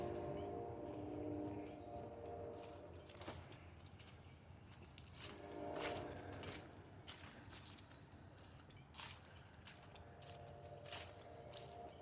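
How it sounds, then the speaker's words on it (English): A train rumbles faintly in the distance in a quiet woodland along a walking trail, while birds chirp and call intermittently nearer by. "Train in the background."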